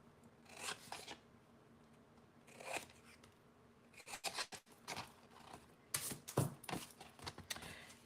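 Scissors trim the tabs of a paper box template, with several separate short snips and rasping cuts, quiet and close.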